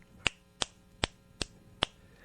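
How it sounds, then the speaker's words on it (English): Five crisp finger snaps spaced about evenly apart, sharp and close over a quiet background, with no talking. "Snapping in the spirit of slam poetry"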